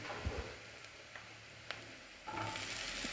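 Onions sauté in a pan as part of a vegetable wheat noodle dish, making a faint, quiet sizzle with a few scattered clicks, then swelling a little louder near the end.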